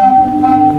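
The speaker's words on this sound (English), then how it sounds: "Zadar has a strange thing called a sea organ that looks and sounds like this" Zadar sea organ on the Croatian coast, a brief steady organ-like tone with a sustained pure pitch over a low hum, loud and close, lasting under a second.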